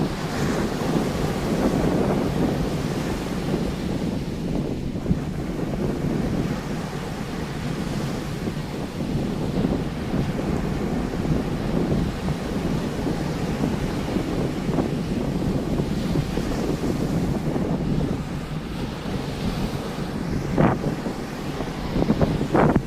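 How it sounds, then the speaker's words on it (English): Wind at a beach buffets the microphone in a constant roar, with ocean waves and surf washing underneath throughout, loud and unbroken, and no one speaking. "Can you hear the waves, or is it all wind?"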